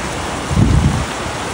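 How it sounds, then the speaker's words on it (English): Steady rain falling outdoors during a walk in Tennessee under a flood watch, a dense close hiss with a brief heavier gust of patter midway. "it's raining, and we're under a flood watch"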